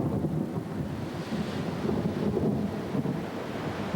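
A thunderstorm rages at sea in a documentary, with a low, continuous rumble of thunder mixed with gusting wind and surf-like roar, steady and fairly loud with no voices.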